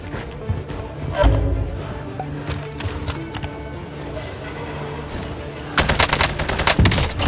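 AK47 fire in Call of Duty on Rebirth Island, bursts of automatic shots scattered through a busy game mix, with a denser, louder stretch of rapid fire near the end.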